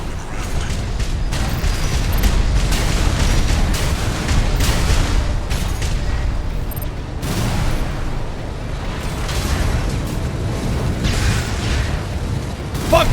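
Explosions and blasts from a mech combat video game, dense booming bursts and mechanical clatter running continuously and loud, with no talking.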